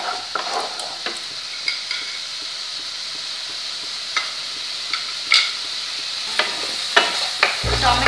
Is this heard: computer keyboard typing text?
no